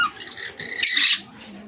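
A short, bright squawk from a green pallid Indian ringneck parakeet hen rings out loud and close after a couple of softer chirping calls, then fades to quiet.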